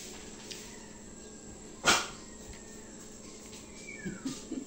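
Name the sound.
dogs barking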